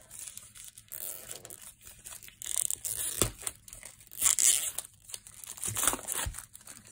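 Shrink wrap being torn open on a boxed card deck, with close, quiet bursts of crinkling and tearing plastic in irregular pulls, no talking.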